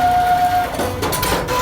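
A cash machine at a bank in Karachi dispenses a withdrawal with a close, steady mechanical whir and a faint electronic tone, followed by brief clicking and shuffling as the notes come out, with no talking.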